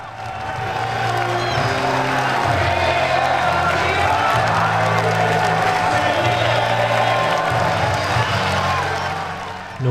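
Football supporters of Barnet FC on the East Terrace cheer and applaud during the 2004/05 season, a loud, continuous crowd roar with clapping and whoops, heard from within the stand at a distance from the pitch.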